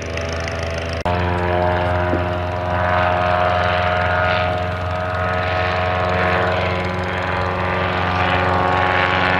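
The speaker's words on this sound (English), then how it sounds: "joined by the 1937 Martlet single-seat aerobatic sport racing aircraft" A propeller aeroplane drones steadily overhead with a rough, throbbing engine note, loud and sustained after a brief thump.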